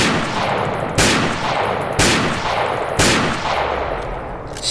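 Gunfire in the video game Fallout 3 cracks out in three loud, evenly spaced shots about a second apart, each ringing and decaying before the next.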